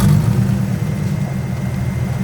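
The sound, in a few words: Nissan 180SX engine idling with a manifold leak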